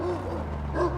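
A dog in the video game Mad Max gives a quick bark, a short, close yelp-like burst heard over a low game background hum.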